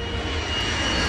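A Boeing 757 jetliner cruising at high altitude gives a steady, broad cabin engine drone with a low hum and faint high whine, constant and unbroken throughout.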